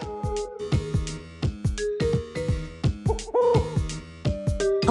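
Owl hoots from the Lingokids animal stacking game, repeated in a steady rhythm of short tonal calls over bright game music, fairly loud with no talk.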